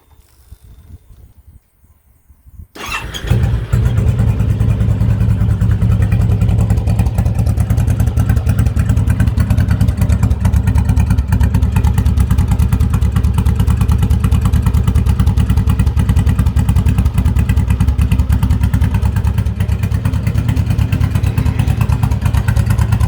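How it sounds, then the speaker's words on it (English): A Honda Fury motorcycle with a Cobra exhaust, baffles removed, starts after a quiet mechanical moment and settles into a loud, steady, deep idle rumble that continues alone. "this is the before and after on the baffle remover"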